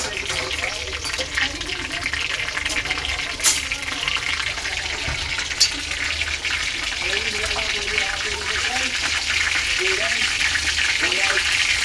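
Curry leaves and cumin seeds crackle and sizzle in hot oil for a homemade semolina and flour pasta dish, giving a steady frying hiss with small pops throughout.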